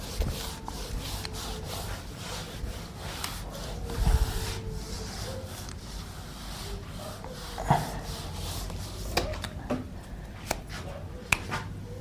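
A board eraser rubs across a classroom board during a physics lecture on electrostatics, giving a soft, scratchy wiping texture with a few sharper knocks, fairly close and continuing alone for about twelve seconds.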